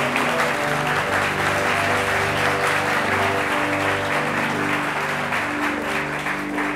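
Steady, loud audience applause fills a distinction ceremony where medals are presented, with music playing underneath throughout.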